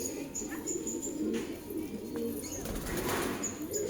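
A pigeon shakes and flaps its feathers in a loft, a quick fluttering rustle close by, with soft cooing from birds in the background.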